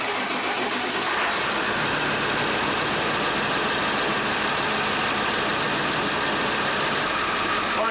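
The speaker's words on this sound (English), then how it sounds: "So now I'm gonna go inside the vehicle and start the engine." Ford E350 van engine on a lift in a repair shop cranking and starting, then settling into a loud, steady close-up idle with a broad constant rumble.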